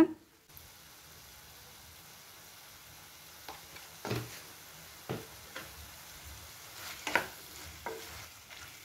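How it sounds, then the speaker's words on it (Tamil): Goat liver sautéing in fat in a pan gives a soft, steady sizzle, broken by several sharper clinks and scrapes as the pieces are stirred. "இப்போ ஈரலையும் நம்ம சேர்த்தாச்சு ஒரு அஞ்சு நிமிஷம் நல்லா வதக்கி விட்ட பின்னாடி"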